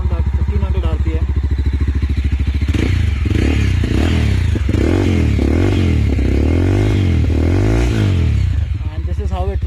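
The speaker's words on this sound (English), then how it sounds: "This is the sound at idling RPM. Idling RPM is around at 1500 RPM." A Mahindra Mojo 300 motorcycle with a dual exhaust idles around 1500 rpm, a loud close steady low thrumming pulse that continues throughout with some clattery texture.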